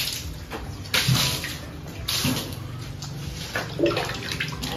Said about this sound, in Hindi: सिर्फ पानी से ऐसे ही धो रहे हैं